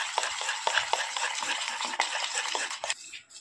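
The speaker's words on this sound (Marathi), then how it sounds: "आपल्याला हे छान फेटून घ्यायचं आहे" A whisk beats dhokla batter with baking soda in a bowl, quick rhythmic scraping strokes repeating close and clear, with no talking, before slowing at the end.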